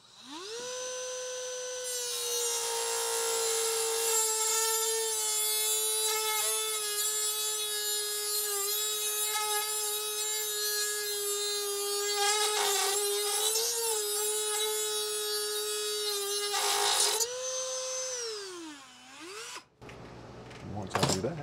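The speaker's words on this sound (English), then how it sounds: "Off with the Dremel." Dremel rotary tool cutting through a metal window regulator on a bus, a steady high-pitched whine with a dense buzzing edge, dipping briefly as it bites and winding down near the end.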